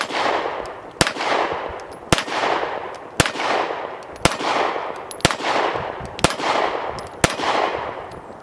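Eight sharp pistol shots from an aluminum-frame Alpha Foxtrot AF-C Glock-clone firing 115 grain ball, spaced about one second apart in a steady rhythm, each loud crack trailing into an outdoor echo.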